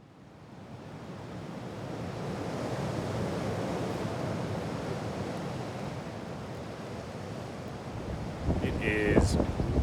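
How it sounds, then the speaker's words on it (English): Strong wind roars against the microphone in sustained gusts, building and holding loud, with some brief clattering near the end. "It is really quite windy here at the moment."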